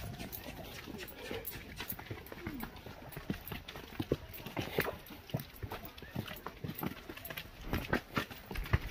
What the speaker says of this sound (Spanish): Aquí que se quedan los caballos